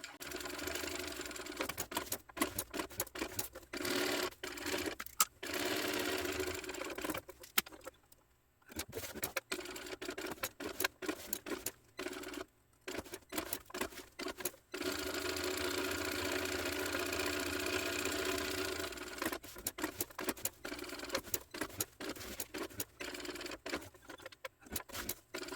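A sewing machine runs steady seams about 1/8 inch from the edge around a homemade tote bag, close and continuous, breaking off into short pauses between long stretches of stitching.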